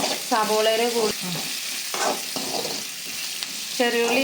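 Small onions sautéing in a pan for chutney, a soft steady sizzle with stirring scrapes close by, while a voice talks over it in several bursts.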